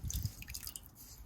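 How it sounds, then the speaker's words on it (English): A wet microfiber cloth is wrung out over a bucket of warm water, giving a brief close squelch and then a few small drips, quiet and with no voices. "I'm going to dip it in here and I'm going to wring it out."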